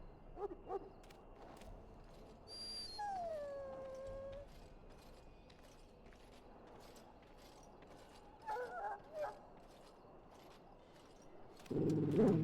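Dog whimpering and howling in the video game Dragon Age Origins: a rising, wavering whine and a few brief yelps over low ambient game noise, with a louder growling burst at the end.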